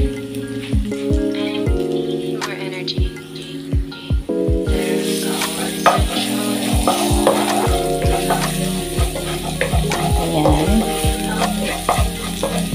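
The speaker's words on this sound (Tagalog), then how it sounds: "Yung konting oil para igisa natin yung bawang." Garlic sizzles in a little hot oil in a pan, a loud, steady crackling fry close by, with clinks of a spoon stirring through it.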